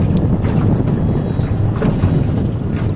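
A boat motor runs steadily on a lake during a fishing outing, a continuous low rumbling drone with wind buffeting the microphone and water wash throughout, close and loud with no talking.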